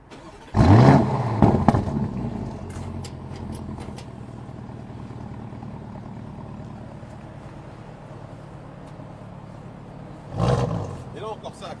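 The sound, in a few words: Lamborghini Urus engine starting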